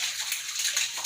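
Water gushes steadily out of a PVC pipe, a constant bright hissing splash with no pauses, fairly loud and close.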